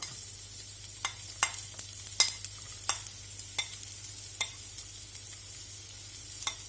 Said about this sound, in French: J'ajoute l'oignon.